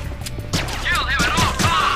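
Enemies in the game Infernal fire a rapid fusillade of gunshots at a wall inside Hochtempelberg Monastery, dense bursts of shots overlapping with whining electronic effects and a voice talking underneath.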